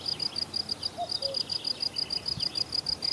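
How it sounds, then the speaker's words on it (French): Small birds chirp in a quick, regular series of high tweets over faint insect buzzing in the countryside near a fruit farm outside Nantes, clear and fairly close with no talk. "Les oiseaux."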